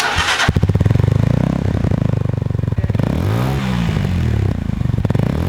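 A QJ Motors QJ 125 motorcycle engine runs close by, a steady rumbling idle with uneven throttle blips and pitch swells, no talk over it.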